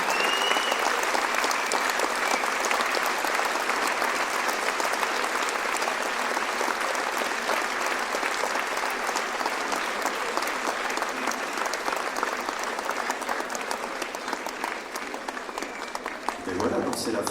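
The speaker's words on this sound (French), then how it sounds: "applaudissez tous les artistes ici sur scène" An audience at a New Year's greetings event in Belfort applauds the artists and volunteers on stage, a loud, sustained, even wash of clapping that tapers slightly at the end.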